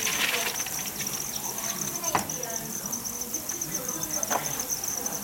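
Dense, steady chorus of crickets chirping at a Vietnamese cricket farm, a continuous high shrill drone close by with a couple of brief sharp knocks over it.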